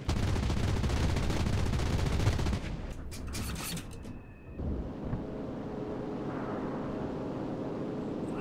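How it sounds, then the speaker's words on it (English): Rapid heavy anti-tank cannon fire in the video game Enlisted thunders continuously for a couple of seconds, then breaks into scattered sharp shots over a lower rumbling drone. "Might be an anti-tank cannon."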